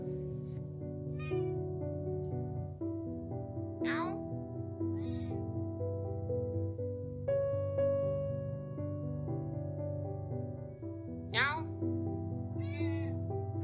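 A cat meows several times, short high cries scattered over steady background music.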